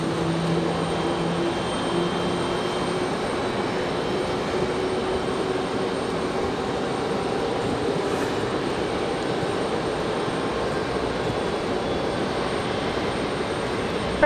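Frontier airliner starting its engines during pushback at Raleigh-Durham airport, a steady broad engine roar that holds at an even, fairly loud level throughout with no voices.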